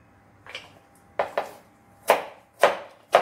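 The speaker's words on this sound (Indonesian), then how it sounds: "Kunyit kita bisa bagi dalam 3 atau 4 bagian, mungkin sekitar seperti ini ya" A knife chopping fresh turmeric into pieces on a board, six sharp taps in an irregular rhythm, close and clear with quiet gaps between strikes.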